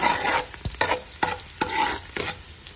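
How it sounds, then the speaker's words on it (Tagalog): Garlic sautéing in a pan, a close, bright sizzle broken by several sharp scrapes and taps of a spatula stirring at a brisk, uneven rhythm, with no talk. "Ayan, gigisa na po natin. Unahin muna natin yung bawang po guys."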